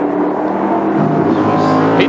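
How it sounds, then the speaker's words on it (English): A 1964 Ford Falcon Sprint race car at Bathurst roars close by on the racetrack, its engine note holding steady and loud, then rising slightly as it passes, with no voices. "There's Tweedy in 2nd. Yes, bringing his 64 Falcon Sprint"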